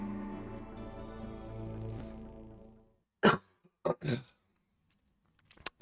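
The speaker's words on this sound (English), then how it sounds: "Pardon my coughing." A person coughs several times at close range, in a few harsh bursts with a throat-clearing quality. The coughs follow a stretch of background music from the game Iblard: Laputa no Kaeru Machi that fades out first.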